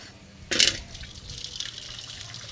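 Water is drained off cooked greens in a village-style kitchen, beginning with a sudden splashing pour that settles into a steady trickle and drip.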